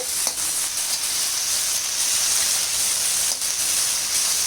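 Groundnuts frying in a pan for a lentil spice powder, browning in oil with a steady, close sizzle and hiss that runs the whole time, broken only by a few faint clicks.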